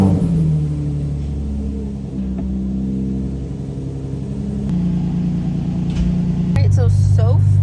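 A Infiniti G35 engine idles with a newly fitted aftermarket exhaust, giving a steady low rumble that shifts pitch slightly a few times, with a brief word spoken over it.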